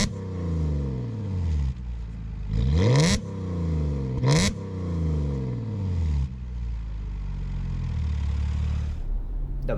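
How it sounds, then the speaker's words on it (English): Audi S5 sedan with a 3-liter supercharged V6, its exhaust note rising in several sharp revving bursts that sweep up in pitch and fall back to a deep idle burble, loud and close. "Let's hear the exhaust note of this car."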